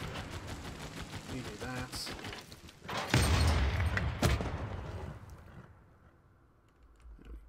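Bursts of artillery bombardment in Civilization 6, a rapid fusillade of booms and gunfire cracks building to heavy blasts, then fading, with someone talking over it.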